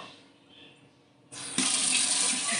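A faucet is turned on and water gushes and splashes as sprouting seeds for poultry are rinsed in a sink, starting after a quiet moment, then steady and loud.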